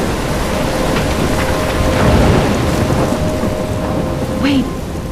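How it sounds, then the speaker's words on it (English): Thunderstorm in the Life is Strange video game: steady heavy rain and wind roar continuously, with a low rolling thunder swell midway and faint tonal game ambience underneath. "I'm trapped in a storm?"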